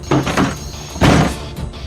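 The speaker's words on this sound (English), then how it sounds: "Break the door." Heavy thuds against a door as it is being broken down, two loud impacts close by with a fainter knock after, no talking.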